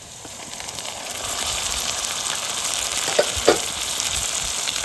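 Onions sauté in a hot pan for Odisha-style egg bonda, a continuous close sizzle and crackle with a couple of light utensil taps partway through.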